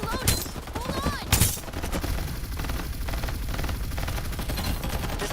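Dense, continuous automatic gunfire in the shooter game Farlight 84, loud and close throughout with a couple of sharper bursts near the start and no pause in the shooting.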